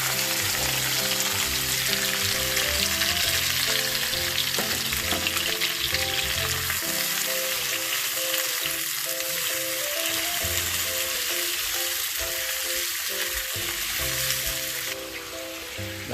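Shrimp frying in hot oil, a loud, continuous crackling sizzle that holds steady throughout, with a faint underlying tonal hum before it eases slightly near the end.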